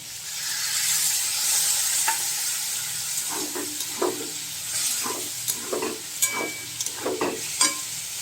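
Potatoes frying in a pan as a ground poppy seed and green chilli water is poured in, a continuous sizzle broken by repeated stirring scrapes and taps growing more frequent toward the end.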